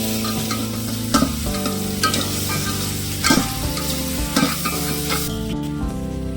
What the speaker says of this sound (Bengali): আমরা চিকেনগুলো এবার দিয়ে দিচ্ছি।